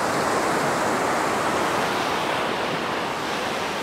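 Sea waves washing up on the shore at night on the Chanthaburi coast in Thailand, a continuous close rush of surf with some wind, no voices.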